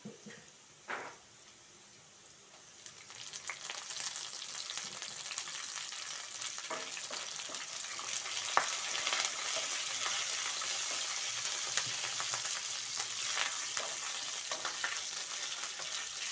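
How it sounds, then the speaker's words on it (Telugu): Green chillies and curry leaves fry in hot oil, with a faint crackle at first, then a steady close sizzle that swells and carries occasional pops and spatters. "పచ్చిమిర్చి కొంచెం మగ్గనిద్దాం. వేగినాయి. కరివేపాకు వేసుకుందాం."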